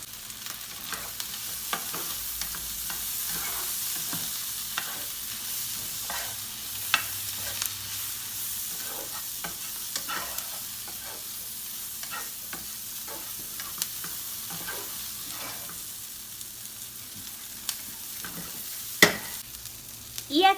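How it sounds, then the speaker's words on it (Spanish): Onion, peppers and nopales being stirred and mixed in a sizzling pan for shrimp in molcajete, a continuous soft frying hiss with scattered scrapes and taps of a utensil, one sharper knock near the end. "Y ahora sí vamos a batirle, a mezclar muy bien esto."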